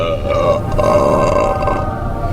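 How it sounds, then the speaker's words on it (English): A single long, loud, voiced burp, close and drawn out with a rough, grunting quality, heard alone without talk. "burping sounds"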